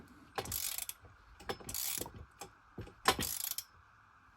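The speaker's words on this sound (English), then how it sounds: "These, I always use a ratchet." A ratchet clicks in several short bursts while loosening bolts on an Alaskan chainsaw mill, close and distinct with quiet pauses between.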